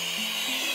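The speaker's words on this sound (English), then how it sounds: "this is a little vacuum cleaner" A small handheld mini vacuum cleaner runs steadily and fairly loudly throughout with a constant high motor whine, heard close up with no speech.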